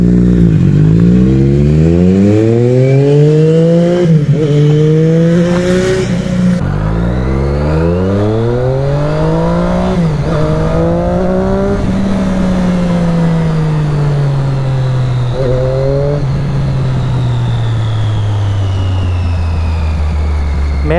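A Triumph Daytona 675R sportbike fitted with a Scorpion exhaust revs hard and loud up close, its pitch climbing and falling through several throttle blips before settling into a sustained high rev and then easing down.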